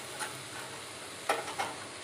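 Bottle gourd leaves with beans and potatoes frying in a pan, a soft steady sizzle with a couple of brief stirring scrapes near the end, faint and close, no voices.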